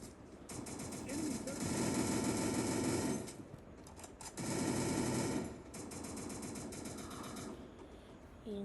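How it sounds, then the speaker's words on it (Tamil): Sustained automatic gunfire in the battle royale game Free Fire comes in two long, loud, rattling bursts separated by quieter stretches of in-game noise. "அந்த பக்கம் புல்லட் சவுண்ட்."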